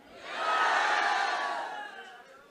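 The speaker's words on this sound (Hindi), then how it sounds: "तालियां हो जाए सभी के लिए" A crowd gathered at a community event in India bursts into a brief swell of cheering and applause that rises quickly, holds, and then fades within a few seconds.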